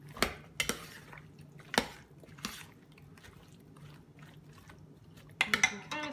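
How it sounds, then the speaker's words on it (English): Vegetables and tofu are turned through tikka masala sauce in a crockpot, with sharp spoon clinks against the pot and soft wet scraping in a quiet, irregular rhythm, close and fairly faint. "So now we'll stir that all around."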